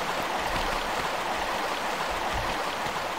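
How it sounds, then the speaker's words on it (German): River water flowing toward a waterfall in the 1996 Tomb Raider video game: a steady, full rushing wash with no breaks, close and fairly loud throughout. "tatsächlich haben wir den Fluss umgeleitet. Der fließt jetzt nicht mehr geradeaus zu dem Wasserfall, sondern hier links rein"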